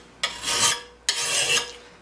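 A hand file rasps across the edge of a steel lawnmower blade in two long, even strokes, each a bright gritty scrape heard close up and alone.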